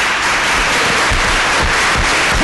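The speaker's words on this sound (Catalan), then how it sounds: "un aplaudiment per ella" An audience claps loudly for a woman in a studio, a dense, steady round of applause that fills the whole moment, close and sustained without talk.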